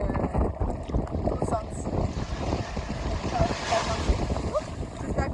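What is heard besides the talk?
wind blowing at the seashore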